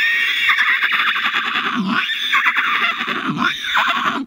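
A person imitates a horse neighing with the voice, a loud, close, continuous whinny-like sound with a few rising and falling squeals over about four seconds.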